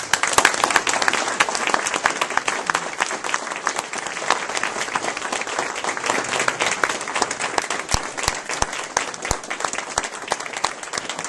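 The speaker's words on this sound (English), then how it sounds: "big round of applause for our gubernatorial candidate" Sustained, loud applause from an audience at a campaign debt retirement event as gubernatorial candidate John Stephen is introduced, dense clapping filling the room steadily for over ten seconds with no talk over it.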